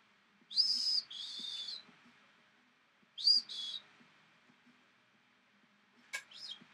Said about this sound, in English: I think our bird friend is outside.